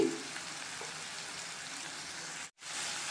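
Ginger, garlic, mustard seeds and urad dal fry in a pan with a soft, steady sizzle. It cuts out briefly near the end and then resumes.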